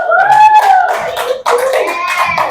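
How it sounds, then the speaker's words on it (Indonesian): Children clap their hands in a classroom, with a few sharp claps mixed under raised young voices that chant or call out loudly and close by. "tepuk tangan"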